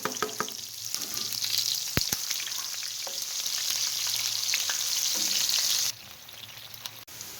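Sliced onion sizzles steadily in a pan of hot oil with cumin seeds and potatoes while aloo bhujiya cooks. The hiss is dense and continuous, broken by a few clatters of stirring, then it suddenly quiets near the end.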